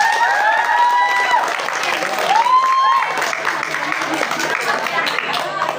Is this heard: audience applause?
yes